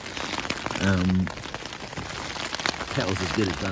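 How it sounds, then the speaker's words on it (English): Steady rain pattering outdoors on a camping trip on the Hebridean island of Vatersay or Barra, a continuous close hiss beneath someone speaking briefly. "Here comes the rain again."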